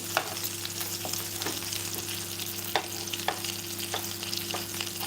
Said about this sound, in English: Because I still need that fish to fry a bit